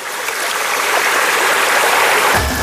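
Clear river water flows steadily in a forested stretch in Bojonegoro, East Java, a loud continuous rushing wash filling the whole moment without pause or voices.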